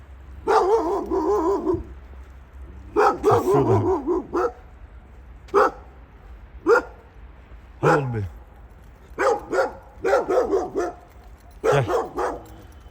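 A dog barks in bursts of several sharp, fairly close barks spread throughout, while someone talks and calls out between them.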